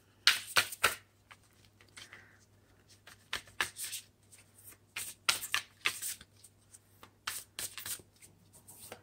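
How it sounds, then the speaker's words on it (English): Starseed Oracle cards shuffled by hand, giving quick, soft riffling bursts and flutters that come in clusters with short pauses between them, close and fairly quiet. "I think I'll pull two oracle cards from the Starseed Oracle, just to sum this up."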